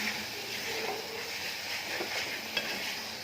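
Egg curry gravy simmers and sizzles in a pan while it is stirred, giving a steady close frying hiss with a few faint scrapes and one sharp utensil tap near the end, and no voices.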